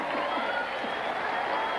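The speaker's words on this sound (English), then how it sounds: "Give him a round of applause." A crowd posing as schoolmates applauds on cue at a family feud game event, a steady, dense wash of clapping that stays even and fairly loud for its whole short length.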